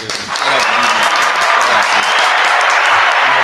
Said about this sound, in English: Let's clap it up for my brother